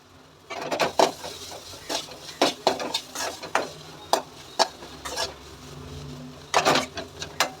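A raw mango rice mixture is stirred and fried in a pan, with repeated scraping and clanking strokes of a spoon against the metal in an uneven rhythm over a faint sizzle, close and fairly loud.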